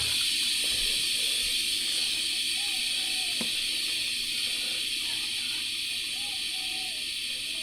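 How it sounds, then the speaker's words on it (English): A steady, loud hiss of an espresso machine steam wand steaming milk runs throughout, broad and unbroken, with faint gurgling and a single clink partway through. "Steam up some milk."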